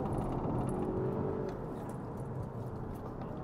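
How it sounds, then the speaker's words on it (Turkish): A Volvo S90 T8 pulls away from a standstill and accelerates, its engine a low, steady hum and whir heard from inside the cabin, fairly quiet with a slight rise early on. "Şöyle bir sıfırdan kalkalım arkadaşlar. Vallahi güzel hızlanıyor be."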